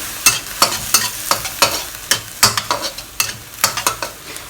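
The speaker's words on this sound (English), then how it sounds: "we'll add in 1 tablespoon of oyster sauce and also crushed white pepper. Mix them up well again." Pork stirred in a pan with oyster sauce and crushed white pepper for a Chinese dish: a regular run of about a dozen loud, close spatula scrapes and clacks over a light sizzle, no talking.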